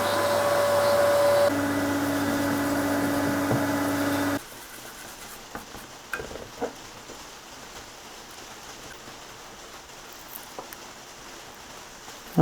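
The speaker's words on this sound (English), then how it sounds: "a good way is to use a vacuum cleaner." A vacuum cleaner cleaning the fan of a blower-style graphics card roars in a loud, steady whine that shifts pitch once, then cuts off after about four seconds, leaving soft rain-like patter and a few light knocks.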